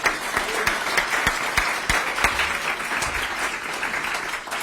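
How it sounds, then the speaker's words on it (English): A crowd at a groundbreaking ceremony for a housing and arts project claps continuously, with a few sharp, close-by claps standing out over the steady patter. "Could you clap for them, please?"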